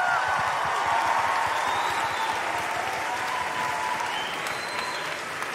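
A school audience at a house music event applauds and cheers steadily throughout, a dense wash of clapping with scattered whoops and voices mixed in.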